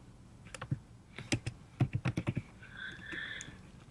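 A computer keyboard is tapped in short bursts as a shell script is typed on a Mac, producing crisp, close key clicks in an uneven rhythm with brief pauses, followed by a faint tonal whir.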